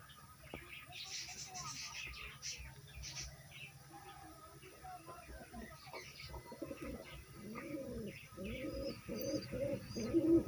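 Pigeons in a double-tiered loft cage with young birds coo in low, rolling bursts, growing louder toward the end, mixed with higher chirps and faint rustling; a voice is heard in the background.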